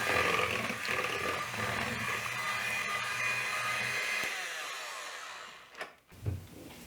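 An electric hand mixer on low speed beats pumpkin cheesecake batter as heavy cream is added, giving a steady close whirring drone that winds down and stops near the end, followed by a couple of short knocks.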